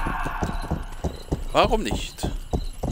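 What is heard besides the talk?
horse hooves clip-clop in video game Rustler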